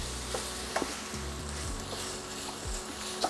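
Sausages fry and sizzle in a pan while being stirred, a steady soft crackle with a few close scrapes and knocks from the spoon, alone without talk.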